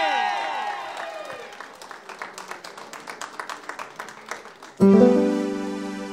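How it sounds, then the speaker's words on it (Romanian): Wedding guests at a bride and groom's dance clap in a loose rhythmic patter after a sustained musical chord fades, then a loud bright burst of music cuts in near the end. "Încă o dată aplauze, vă rugăm din suflet."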